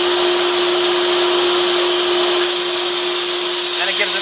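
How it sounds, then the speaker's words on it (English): A compressed-air nozzle blasts excess sand out of a Callaway X-20 golf iron head in a workshop, a loud continuous hissing rush with a steady machine hum beneath it. "And it gives an air blast. That cleans all the excess sand out."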